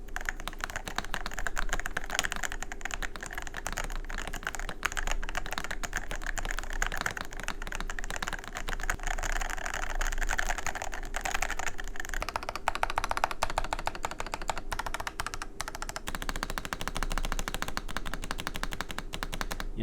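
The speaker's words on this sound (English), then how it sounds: "The board is definitely a bit of a deeper and clacky sound." Steady, fast typing on a mechanical keyboard with a plastic case, giving a deep, clacky sound: a dense stream of keystrokes, close up and continuous, with no talking.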